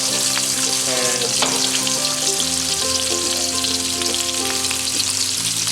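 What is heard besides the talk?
stir-frying in a wok over high heat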